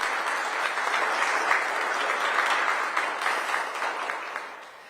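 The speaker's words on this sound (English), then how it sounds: "Please give them a big round of applause." Audience applause at a mayor's agreement signing with school officers, steady dense clapping from a sizable crowd, sustained for several seconds and tapering toward the end.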